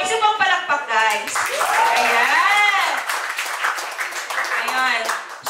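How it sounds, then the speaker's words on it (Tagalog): An audience at a motivational talk gives a round of applause, clapping and cheering together for a few seconds while voices call out over it. "So, isa pang palakpak, guys."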